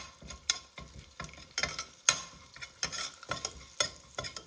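Cumin seeds and asafoetida sizzle in hot oil as a spoon stirs them for a bottle gourd and chana dal curry, with repeated scraping strokes over a steady crackle, close and moderately loud.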